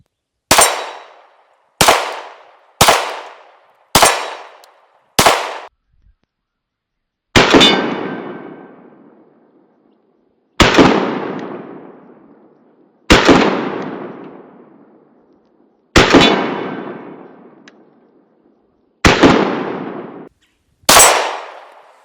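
An AMT Backup .45 pocket pistol is fired at a range, eleven loud, close shots: five quick ones, then six more spaced out, each ringing and decaying before the next.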